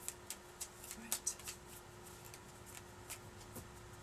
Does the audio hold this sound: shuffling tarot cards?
yes